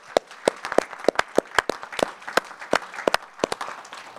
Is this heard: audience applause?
yes